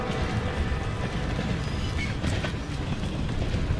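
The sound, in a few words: train in the video game Call of Duty: Vanguard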